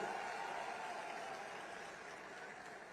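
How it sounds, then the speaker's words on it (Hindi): An auditorium audience applauds Kishan Bhai at a taxi service launch ceremony in Gujarat, a dense wash of clapping that holds steady and fades slightly, with no voice over it. "सारथी जरा जोर से ताली बजाओ किशन भाई के लिए"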